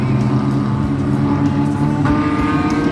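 Junior sedan race cars at Mildura Speedway during an Australian title heat, engines droning and revving steadily together, loud and continuous with rising pitch as they accelerate.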